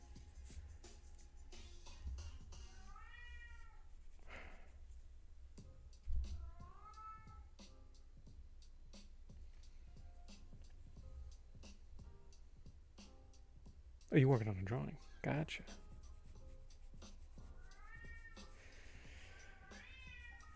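A hungry house cat meows several times, each a drawn-out, rising-and-falling call, heard faintly indoors with a brief clatter midway and a person talking quietly in between.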